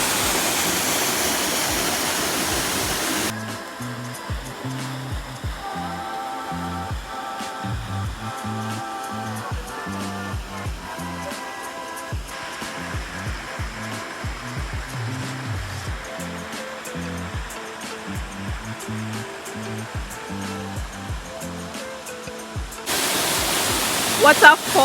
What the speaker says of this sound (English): That's a small waterfall,